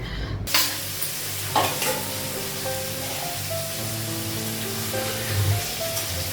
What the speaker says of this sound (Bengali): পটলটা লাগালাম আর এখানে শুকনো লঙ্কা দিয়েছি